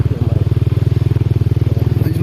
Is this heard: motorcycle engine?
yes